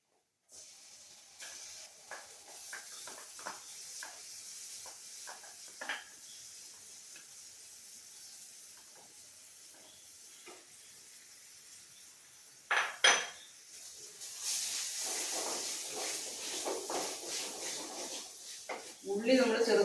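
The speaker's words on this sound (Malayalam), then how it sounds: "അപ്പം ഇതൊന്ന് അതിൻ്റെ ഒരു പച്ചമണമൊക്കെ മാറുന്നത് വരെ ഇങ്ങനെ ഇളക്കി കൊടുക്കണം" Ground onion paste for paneer masala stirred in a pan: a string of spoon taps and scrapes against metal under a faint sizzle, followed by louder bursts of frying hiss and clatter near the end, close by.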